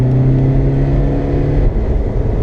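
A tuned car in sport mode accelerates hard from 30 with its tires slipping, giving a loud, steady engine roar that holds its pitch throughout, close by and with no voices.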